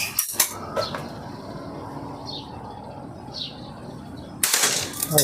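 A top-model slingshot fires shots at a target outdoors, producing sharp snapping cracks near the start and a louder burst near the end, with a steady background hiss in between.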